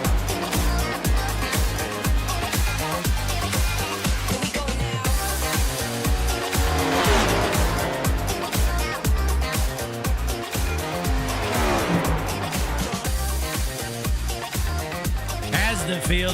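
Pack of iRacing cup cars circling Kansas in the sim racing game behind the pace car, a dense continuous engine roar with rising and falling pitch sweeps, talk of a commentator over it.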